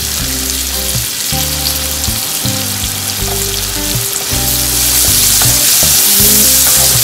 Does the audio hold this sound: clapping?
no